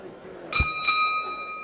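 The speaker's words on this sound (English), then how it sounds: "As the bell sounds to begin round number 2" A single bright boxing ring bell ding rings out, struck twice in quick succession to start a round at a 60kg boxing bout, with a lingering metallic ring over faint background noise.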